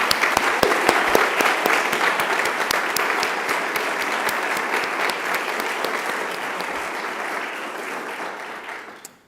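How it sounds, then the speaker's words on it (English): An awards-ceremony audience breaks into loud, dense applause that holds steady for several seconds before fading out quickly at the end. "let's give Jonathan another round of applause"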